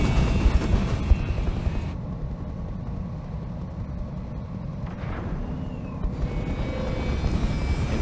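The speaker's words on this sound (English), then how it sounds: "And all the helicopters are turning around." Engine roar of VTOL helicopters in the Roguetech/Battletech video game, a steady whooshing drone that dips partway through and swells again, with short electronic beeps near the start.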